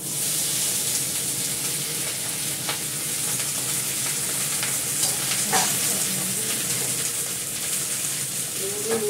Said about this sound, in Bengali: এবার ভেন্ডিটা ভেজে নেবো